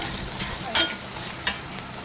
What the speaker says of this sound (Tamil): ஸோ நல்லா வதக்கியாச்சு